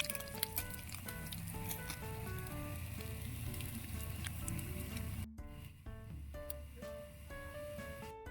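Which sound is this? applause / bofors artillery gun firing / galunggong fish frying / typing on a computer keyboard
galunggong fish frying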